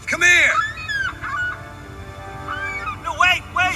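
Geese honking loudly and close, several harsh calls in bursts at the start and again near the end, with a quieter stretch of calling between.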